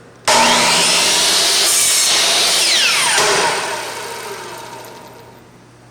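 A miter saw whines up loudly and cuts a compound miter through clamped wood in a woodshop, the blade tone shifting through the cut before spinning down and fading.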